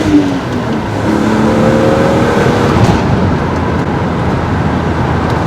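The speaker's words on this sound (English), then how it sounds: "Just listen to that straight six BMW M engine." A BMW Z3 M Roadster's S54 straight-six engine revs hard accelerating in second gear, a loud, continuous throaty roar climbing in pitch as it pulls through the gear.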